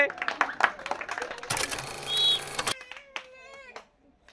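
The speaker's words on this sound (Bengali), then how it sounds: "হাততালি হবে।" A game show audience claps in a short burst after a contestant wins a prize, with a host talking before and after the dense clapping.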